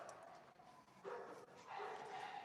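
Several dogs bark and yip nearby in quick overlapping bursts, with a whimpering edge, at a busy indoor gathering.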